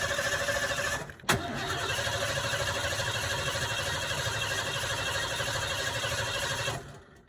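A carburetted engine with a faulty fuel pump cranks and catches on starting fluid, then runs at a steady, loud idle close by, with a sharp jolt as it fires and a drop-off near the end; no one talks.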